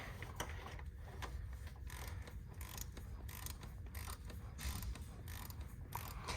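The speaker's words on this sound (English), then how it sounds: "grab my wrench so I can hold the cam like that and start cranking down on it" A ratchet wrench clicks repeatedly as it tightens the camshaft bolt on a Chevrolet Captiva's GM 2.4 Ecotec engine, quick faint ratcheting bursts close up in a quiet shop.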